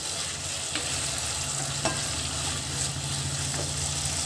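Paneer chilli stir-fries in a pan, giving a continuous loud sizzle with occasional sharp scraping clicks from stirring, and no one talks.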